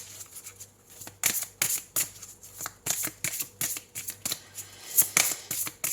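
Oracle cards are shuffled by hand in quick repeated riffling bursts, close and crisp, in a steady rhythm of about a dozen strokes with no voices.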